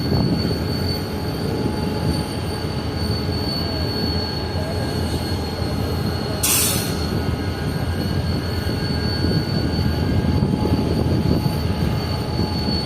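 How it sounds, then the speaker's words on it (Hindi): A Pakistan Railways train arrives at Bin Qasim near Karachi, wheels squealing loudly over a continuous rumble of rolling wagons, close and sustained, with a sharp burst of noise midway. "ट्रेन काफ़ी जल्दी पहुंची है यहाँ पर"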